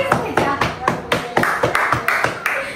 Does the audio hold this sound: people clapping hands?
yes